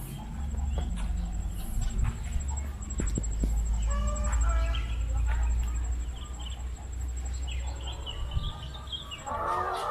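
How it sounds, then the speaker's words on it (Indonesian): Laying hens cluck and call inside a chicken coop on a small egg farm, their faint, scattered squawks sitting under a low hum and background rumble while people talk nearby. "kita masuk ke kandang ayam"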